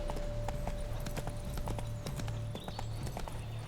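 A horse in The Witcher 3 clip-clops along at a steady trot, its hooves striking in an even rhythm that sits quiet and close beneath a faint constant game tone.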